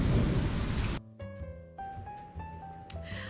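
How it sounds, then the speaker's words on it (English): Heavy rain roars steadily for a second, then gives way to quieter rain with a low rumble of thunder and scattered drips on nearby surfaces. "I don't like this rain at all."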